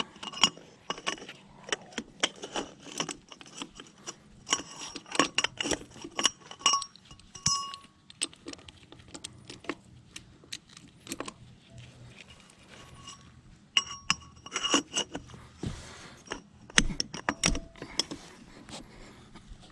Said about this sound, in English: now I got my pipe for leverage. Let's see if we can get it off now